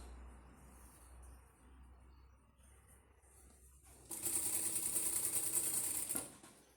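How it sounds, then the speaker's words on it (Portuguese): After a quiet stretch, a sewing machine stitches bias binding onto a baby bib, one steady close whirring run of about two seconds that stops abruptly. "agora aqui nós vamos costurar até o limite"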